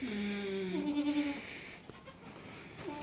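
Several newborn goat kids bleat in high, wavering cries, loud and close at first, then fainter bleats trail off with quiet gaps between.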